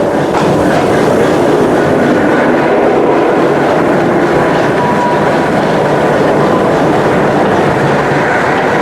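A roller coaster at Six Flags St. Louis, reaching over 66 mph after a 150-foot first drop, produces a loud, continuous rattling rumble of cars on track that holds steady throughout, with no talking.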